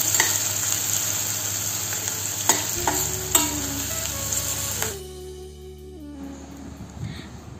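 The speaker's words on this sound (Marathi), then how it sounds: "कांदा छान ब्राऊन होईपर्यंत परतून घ्यायचा आहे" Chopped onion sizzling and being stirred in a pan with cloves, black pepper and stone flower for a mutton masala, a steady near fry with occasional scraping knocks, quieter after a few seconds.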